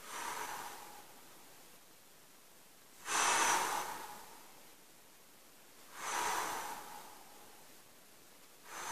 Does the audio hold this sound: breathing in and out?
yes